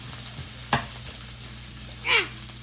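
Food sizzles and cooks down in a pan, with a steady close frying hiss broken by a couple of brief stirring scrapes.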